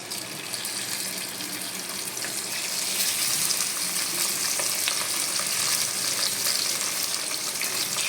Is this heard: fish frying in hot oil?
yes